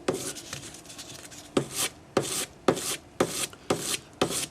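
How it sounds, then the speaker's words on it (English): A sanding stick rubs over twisted wire on a ring shank in close, rhythmic strokes, with soft scuffing at first, then a regular series of sharper rasping passes at roughly half-second intervals. "So just sand it until the wire blends into the ring shank."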